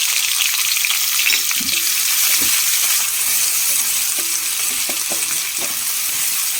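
Half an onion fries in oil with cinnamon for boneless chicken rice, a loud, close, continuous sizzle with scattered small pops and occasional spoon stirring.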